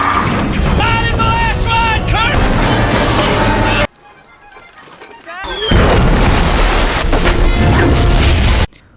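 Tank cannon fire from the action film The A-Team, with heavy booming blasts and crashing impacts amid a loud, dense soundtrack that drops out briefly before surging back.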